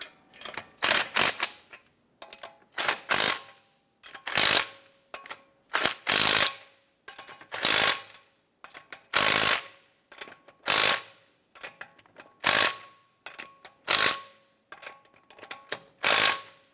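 A ratchet snugs down lug nuts on a 2012-2017 Toyota Camry wheel during a wheel hub job, giving about a dozen close, sharp bursts of rapid clicking separated by short pauses.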